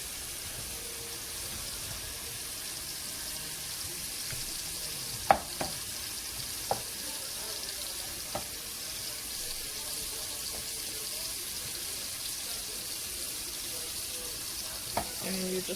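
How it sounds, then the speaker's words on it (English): Tomatoes fry in a pan, a soft continuous sizzle and hiss at low level, broken by a few small clicks and taps of a utensil against the pan, with no talk. "I'm just going to let those tomatoes fry up"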